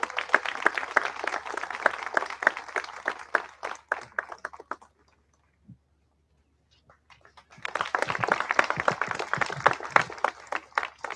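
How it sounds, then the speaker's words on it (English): A crowd applauds new American citizens at a naturalization ceremony. The clapping is dense and sustained, breaks off into a near-silent pause of about three seconds, then the ovation swells back up to full strength. "let's have another big, huge round of applause for all 28 new American citizens"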